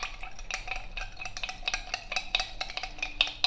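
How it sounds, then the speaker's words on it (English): A spoon stirs crystalline Sangria spice mix into apple cider, clinking and scraping rhythmically against the glass or cup in quick repeated strokes, close and fairly loud, with no talking. "Stir this until it's dissolved."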